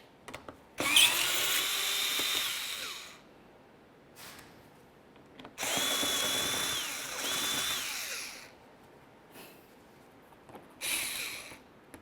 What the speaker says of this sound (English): We're going to start removing two 7mm headed screws and then one push clip from each side of the bumper cover.